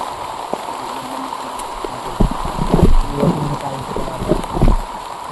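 Rain falls steadily outdoors, a continuous hiss with louder patters and splashes swelling midway, heard alone without talk.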